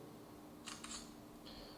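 Shutter clicks from a Micromax Canvas Turbo phone camera taking a burst of pictures, a few quick crisp snaps close by and then a brief electronic tone, with a quiet background.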